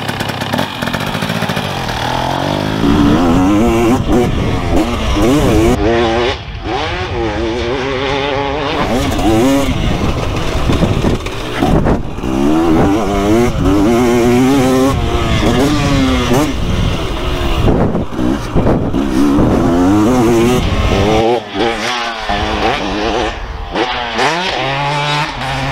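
Two 300cc two-stroke motocross bikes, a Yamaha YZ 300 with an Athena kit and a KTM 300 SX, ride nearby with loud, continuous rising and falling revs and gear changes, with voices talking over the engines.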